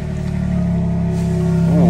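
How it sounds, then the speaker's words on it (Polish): A BMW M3 G80 engine rumbles steadily at idle just after a cold winter start, a low droning hum that holds constant and close, with a brief rising whine near the end. "Zimowe odpalenie, moi drodzy."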